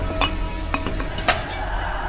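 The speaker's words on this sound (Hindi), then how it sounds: "वो वास नीचे गिरकर टूट गया" A glass vase falls and breaks as a story sound effect. A quick run of sharp, bright clinks and tinkles rings out loud and close, with no talking.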